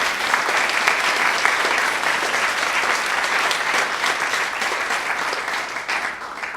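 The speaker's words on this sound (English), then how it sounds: "let's give Adam another round of applause" A lecture audience gives a seminar speaker a sustained round of applause, a thick, loud, even roar of many clapping hands that tapers slightly near the end, with no speech over it.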